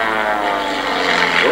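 An aerobatic propeller airplane running on ethanol roars steadily and loudly through a show routine, its engine note holding a dense harmonic drone that bends upward near the end as the plane pulls up.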